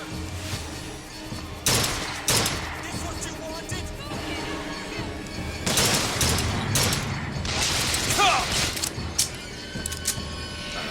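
Bursts of gunfire from BioShock Infinite come in clustered volleys, sharp and loud, mixed with game mechanisms and effects while a player talks over the action.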